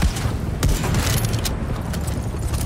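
Video game gunfire crackles in short, fairly faint bursts, with a couple of sharper shots standing out against a steady background rumble.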